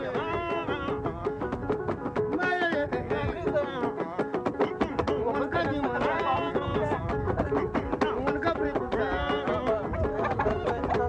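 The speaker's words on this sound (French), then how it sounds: "Le maître fondeur sacrifie un coq." A rooster squawks and clucks repeatedly, loud and close, as a master iron smelter sacrifices it at a traditional African smelting furnace, the harsh calls coming in quick agitated bursts over a busy background.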